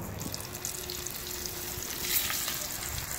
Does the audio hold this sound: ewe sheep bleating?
no